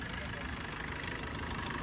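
A 2016 Maruti Brezza ZDI Plus diesel engine idles with an even, continuous rumble that stays steady from start to finish.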